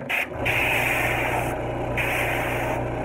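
A Master SB82 side-feed airbrush with a 0.20 needle sprays paint in a loud, continuous close hiss of rushing air, with brief breaks in the flow, heard alone.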